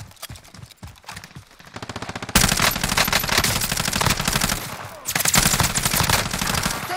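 Video game gunfire: a few scattered shots, then dense sustained automatic bursts that pause briefly and resume, loud and close, with no voices.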